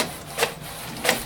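An HP Officejet 6700 printer printing a page, two brief swishing passes of the print carriage over a faint mechanical hum, close by.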